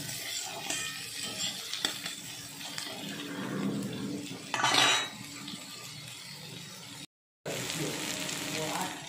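Onion pieces fry and sizzle steadily in a pan while being stirred, with scraping utensil clicks and a louder burst midway, a short gap of silence near the end, for a Bengali puti fish curry.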